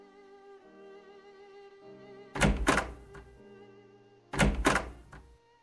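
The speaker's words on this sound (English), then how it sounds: "That door sounded rather weird." Two heavy wooden thunks of a door shutting in a Sherlock Holmes video game, each a loud broadband knock with a short rattling tail, over a soft sustained musical drone.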